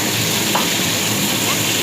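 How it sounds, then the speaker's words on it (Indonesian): Salted fish frying in oil in a pan while being stirred, a steady close sizzle with faint scraping, no talk. "Kita goreng terus kita aduk"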